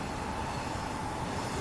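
A light rail train in Macau rolls past with a steady, broad rumble and a faint tonal whine, continuous and moderately distant with no voices.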